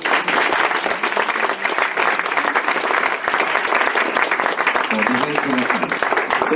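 An audience bursts into dense, sustained applause to welcome a comedian at the opening night of a short film festival. The clapping stays loud and steady throughout, with a voice surfacing briefly near the end.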